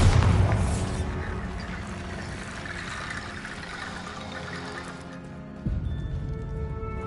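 The Bombarda explosion spell in Hogwarts Legacy goes off with a deep, loud boom at the start, then a long rumbling decay and debris-like crackle, followed by a second lighter impact.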